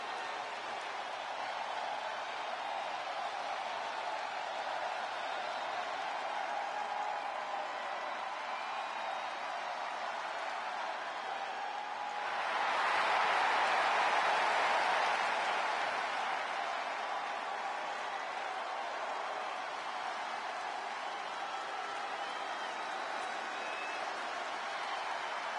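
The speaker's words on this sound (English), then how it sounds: "Listen to this crowd, the respect this man has earned." A wrestling arena crowd in the video game WWE 2K26 keeps up a steady, distant roar that swells into a louder cheer midway, then settles back to a constant murmur.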